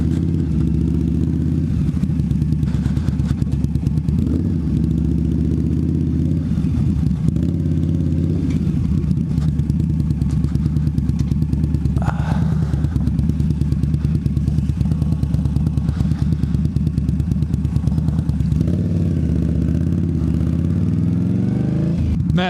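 An Indian Scout motorcycle rides off-road, its engine droning steadily and close throughout, rising in occasional revs over rattling and clatter.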